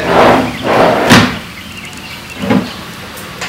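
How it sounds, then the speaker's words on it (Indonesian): A drawer inside a bedroom wardrobe in a residential house is pulled open, giving short sliding scrapes and a knock near the start, then another brief rub and bump a moment later. "jadi di dalam lemarinya ini pas kita buka ada lacinya lagi"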